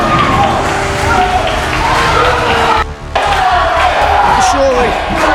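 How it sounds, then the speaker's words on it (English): A dense wrestling crowd roars and cheers continuously and loudly for a wrestler's entrance, broken only by a brief dip before swelling again. "Listen to that crowd response!"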